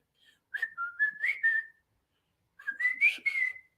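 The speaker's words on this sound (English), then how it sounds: "I'm gonna start whistling that song to you." Someone whistles a tune in two short melodic phrases separated by a pause, clear and close with a quiet background.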